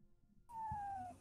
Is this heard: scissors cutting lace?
no